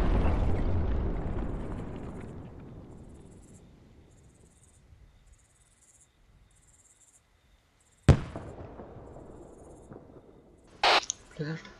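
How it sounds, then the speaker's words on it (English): A distant explosion during a nighttime military operation, its deep rumble rolling and fading over several seconds, followed later by a sharp crack and a few brief noises against near silence. "Stand by for explosion in next 10 seconds."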